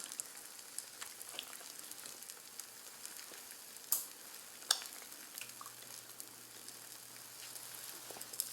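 Egg-soaked French toast slices frying in a pan, a steady soft sizzle with faint crackles and two sharper pops, low and continuous throughout.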